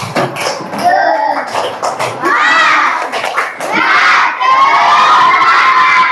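A classroom of children shouts a spirit cheer loudly and close, their voices in rhythmic chant with bursts of clapping and excited yelling.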